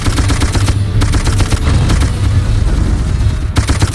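Sustained machine gun fire from a mounted gun in the first-person shooter Darkest of Days, battling German pursuers, loud and continuous with dense rapid bursts and heavy booming low end throughout, with a brief lull near the end.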